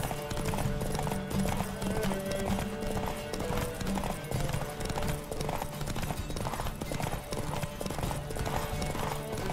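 In the video game The Witcher 3: Wild Hunt, rapid galloping hooves pound steadily throughout, joined by a horse's whinny, with a music-like background underneath; close and loud.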